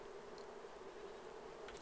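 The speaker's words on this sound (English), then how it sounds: "as you can hear, the bees are going nuts" Bees in the survival game Raft buzz in a continuous, faint, steady drone that holds an even pitch throughout, with no voices.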